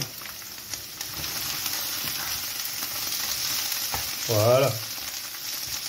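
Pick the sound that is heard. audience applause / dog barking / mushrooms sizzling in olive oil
mushrooms sizzling in olive oil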